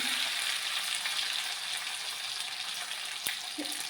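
Cashew nuts and raisins fry in hot oil for chicken peralan, a constant close crackling sizzle with one sharp clink midway and a brief low knock near the end.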